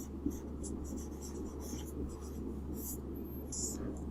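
Pen scratching on paper while an equation for total voltage across series resistors is written out, a soft continuous scribble with short strokes, close and alone, faint hum underneath.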